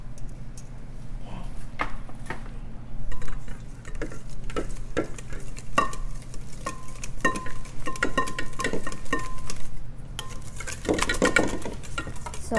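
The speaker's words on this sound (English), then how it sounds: "so let's use our whisk so it's easier here" A whisk clicks and scrapes steadily around a bowl as a softened Japanese cheesecake mixture is stirred, with irregular metallic taps against the bowl's side, up close and with no talking.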